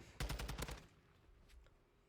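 Rapid automatic gunfire from a Call of Duty esports match, a dense burst of close, loud shots for about half a second, then fading echoes and a couple of faint distant pops.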